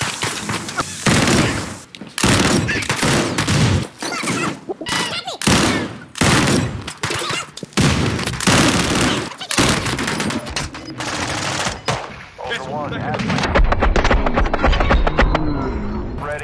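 Gunfire in the video game Call of Duty Warzone 2 DMZ: rapid, loud bursts of automatic fire and single shots, repeated almost without pause and dense throughout, with a steadier rattling stretch near the end.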